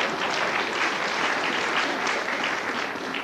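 Sustained audience applause from a Slovak TV talk show studio, a dense steady wash of clapping at even loudness throughout with no pauses.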